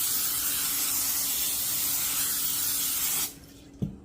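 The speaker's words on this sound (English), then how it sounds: "I'm just going to give a light spray of my olive oil spray on top before I put this in my preheated oven." Olive oil spray from a can misted lightly over stuffed mini peppers, one steady close hiss lasting about three seconds before it cuts off, followed by a small clunk.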